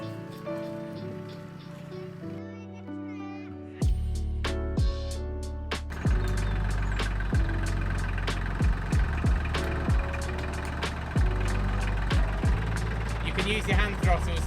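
A farm tractor engine idling outdoors during tree cutting, a low steady rumble that steps up in speed partway through, with a patter of rain-like noise over it.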